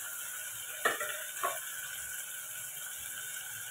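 A rice dish with turmeric being sautéed in a pan makes a low, steady hiss, broken by two quick spoon scrapes against the metal early on, close by and without speech.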